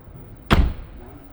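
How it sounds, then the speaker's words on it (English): A motorhome door on a seven-metre Knaus Sky Ti 650MF is pulled shut with a single sharp, close slam, followed by a brief low rumble that fades into quiet room tone. "I'm going to even close the door so we can see the vehicle"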